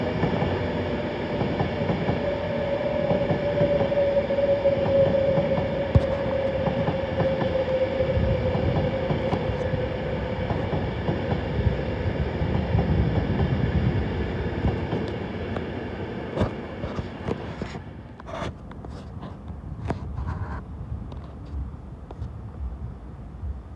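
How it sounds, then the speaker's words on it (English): A London Overground train passes Primrose Hill with a steady, loud rail roar that holds for about fifteen seconds and then fades. A few sharp clicks and wheel sounds follow as it moves away. "This is a London Overground train."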